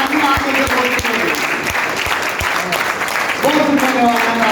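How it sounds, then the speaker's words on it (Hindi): Audience at a business seminar in Chandigarh claps loudly and steadily, a dense burst of applause filling the room, with a few sharper individual claps standing out and a voice briefly audible near the end. "जोरदार तालियां सब के लिए"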